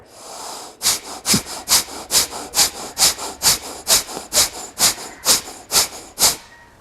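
Forceful kapalabhati yoga breathing: about fourteen sharp, close nasal exhalations in a steady, quick rhythm, each a short hissing puff, with no talking.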